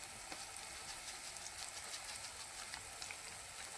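Red chili powder, turmeric and sabzi masala frying in oil for a makhana curry, a faint, steady sizzle with soft crackles throughout, heard alone with no talking.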